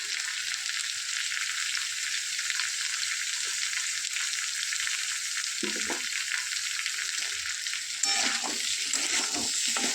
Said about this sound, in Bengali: এই সবগুলো সবজি আমি মশলার সাথে হালকা হালকা করে ভেজে নেব